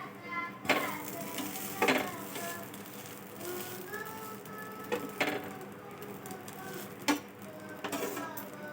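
Dosa frying on a pan with a spoonful of oil, a steady low sizzle broken by several sharp scraping and flipping knocks against the pan, with some faint voice-like tones underneath.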